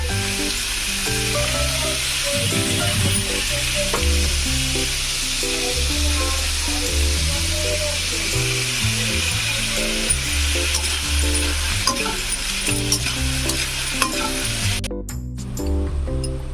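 Chowmein frying in a pan with a pinch of salt and turmeric, a steady close sizzle with occasional stirring and utensil clinks, continuing loudly for the whole stretch and cut off abruptly at the end.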